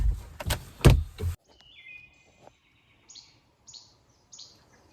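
A wood thrush sings at a pond, its short fluting and trilling phrases coming in clear, spaced bursts after a loud rustling handling noise at the start.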